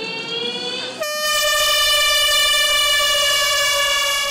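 Air horns blast to start a National Day walking event in a park in Ji'an Township, one horn sounding alone and then several joining in a loud, sustained chord that holds steady to the end.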